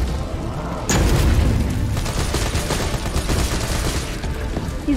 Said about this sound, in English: He's dodging my grenades.